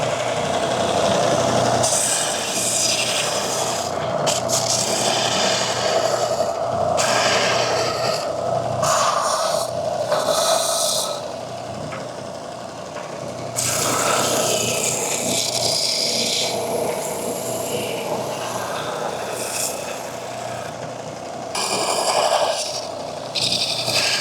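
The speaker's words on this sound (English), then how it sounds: "I'm going to take it over to the sander, and we'll sand it back down to the line" Power sander working a roughed-out wooden blank back to a marked line, a steady whirring motor overlaid with uneven rasping scrapes as the wood is pressed on and eased off, close and fairly loud throughout.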